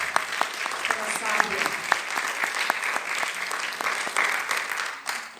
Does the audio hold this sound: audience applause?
yes